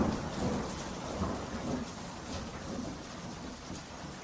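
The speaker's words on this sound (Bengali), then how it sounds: "আকাশে ঘন কালো মেঘ জমে যায় আর সাথে সাথেই তুমুল বেগে বৃষ্টি শুরু হয়" Cartoon sound effect of a thunderstorm with heavy rain: a steady, loud wash of downpour with low thunder rumbling beneath it throughout, no voices.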